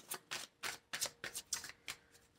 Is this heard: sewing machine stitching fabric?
no